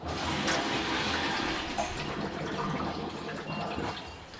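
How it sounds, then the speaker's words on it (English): Bubbling gurgle from air blown softly through a hose into a sailboat's tank, a steady wet churning of bubbles and water close by, continuous for several seconds without talk. "It was consistent bubbles."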